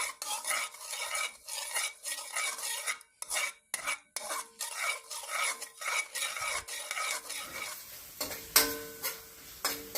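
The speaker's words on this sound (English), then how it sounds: "We're going to saute this garlic until it becomes golden brown." Garlic sautés in a pan while it is stirred, with close scraping and clinking of a utensil against the pan over a soft sizzle. No one speaks.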